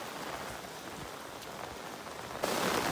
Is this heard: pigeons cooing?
no